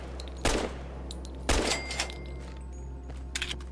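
Gunfire in the video game Fallout: Tale of Two Wastelands, with two sharp, loud shots about a second apart and a couple of fainter follow-up bursts near the end, over a steady low in-game hum.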